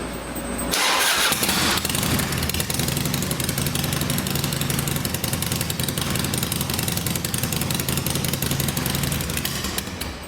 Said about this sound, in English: we will cycle the bike, let the oil go through the system for probably 30 to 45 seconds